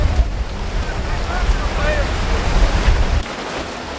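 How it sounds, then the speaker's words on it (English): Sea waves wash steadily onto a beach near Split, with strong wind buffeting the microphone in a continuous loud roar that eases near the end. "the waves are very nice"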